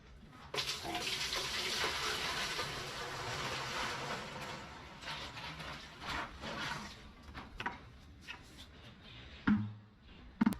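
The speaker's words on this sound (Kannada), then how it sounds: "ಸೊ ಇವಾಗ ಫಸ್ಟ್ ನಾನು ನೀರ್ನ ಹಾಕ್ತೀನಿ" Water pours steadily into an 8 kg portable washing machine, a loud continuous rush that gradually tapers and grows uneven, ending in a few splashes and knocks near the end.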